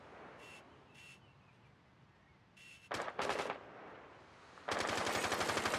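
Rapid bursts of automatic gunfire shooting out a large window in Rainbow Six Siege, a short burst near the middle and a longer sustained volley at the end, loud and close over faint game ambience.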